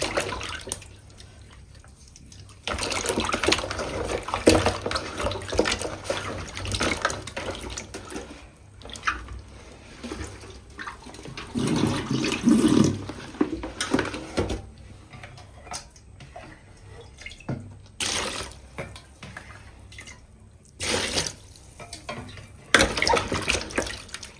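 Live koi fish being washed by hand under running tap water, with splashing and rinsing as the water streams steadily, louder bursts rising and falling over nearly half a minute.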